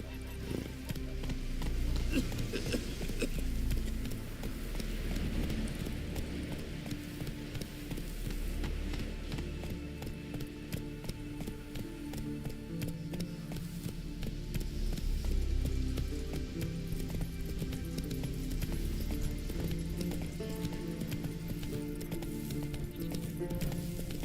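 Roach, a horse in the fantasy role-playing game Witcher 3, gallops with a continuous rhythmic drum of hooves at moderate volume under game music, with occasional spoken dialogue.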